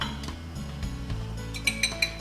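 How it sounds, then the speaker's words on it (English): Metal pan clinks against a stovetop, three sharp taps near the end over a low kitchen hum, while cooking moong dal kachori filling. "Let's take a small pan now and heat up the pan."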